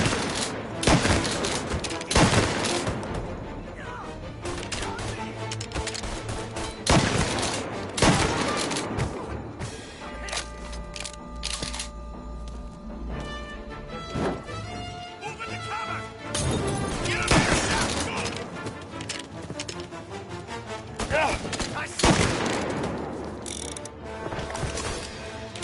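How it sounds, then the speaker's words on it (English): Gunfire crackles through a shootout in the Mafia Definitive Edition video game, with bursts of rapid shots and crashing impacts that break off and return over game sound and mechanical clatter. "Officers, gunshots being reported."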